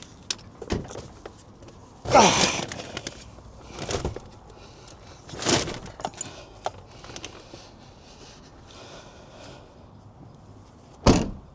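A folded Engwe L20 3.0 Boost electric bike is loaded into a car boot: several sharp, close thumps and clunks separated by quiet stretches, with handling noises in between.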